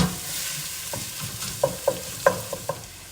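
Minced onions fry quietly in a pan, a soft sizzle broken by a few sharp spatula taps and scrapes near the end.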